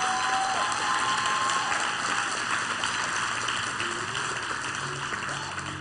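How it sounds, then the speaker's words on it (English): A church congregation applauds in a steady, dense wash of clapping that holds for several seconds at even loudness, then eases slightly toward the end. "can we give Andre a very great round of applause?"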